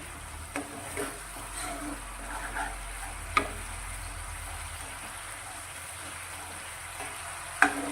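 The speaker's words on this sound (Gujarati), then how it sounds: "ગેસની ફ્લેમ અત્યારે આપણે હાઈ રાખી અને એકાદ મિનિટ જેવું આ રીતે દહીં મસાલાને સાંતળીશું।" Yogurt and spice mixture sautés over a high gas flame with a steady soft sizzle, punctuated by a few sharp clinks of stirring in the pan.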